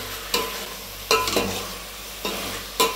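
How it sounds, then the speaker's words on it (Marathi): Spoon stirring masala in a pan for dum biryani, with soft sizzling under a few distinct scraping strokes and taps against the pan, close up and without speech. "साधारण बारका 1 चमचा टाकून हलवून घ्यायचा"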